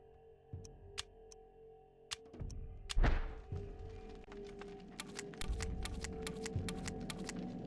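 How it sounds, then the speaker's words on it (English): Shotgun reloading in the horror game Eternal Darkness: Sanity's Requiem, a run of sharp mechanical clicks and ticks spread across the stretch, with a heavier thunk in the middle over a steady low game ambience. "Get the shotgun reloaded."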